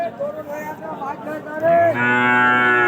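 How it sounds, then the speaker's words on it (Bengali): A cow of a good dairy breed moos loudly and close, a long drawn-out call rising and then holding toward the end, with someone talking over the opening. "আপনারা দেখতে পাচ্ছেন একটা গাই গরু, খুব সুন্দর একটা গাই গরু"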